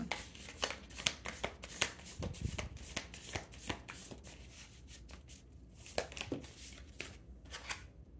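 Tarot cards being shuffled by hand at close range, a long run of quick riffling, flicking bursts in an uneven rhythm, quiet but crisp, with no talking.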